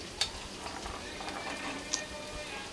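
Onions, beans, carrots and peas frying for masala upma, a soft steady crackle and sizzle with a few sharper pops of stirring, fairly quiet and close, no talking.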